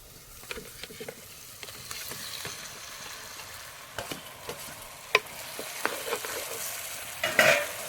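Bird curry (pakkili pulusu) with raw mango pieces being stirred in a pan, with a low sizzle under irregular spoon scrapes and clinks against the metal, close by, growing busier toward the end.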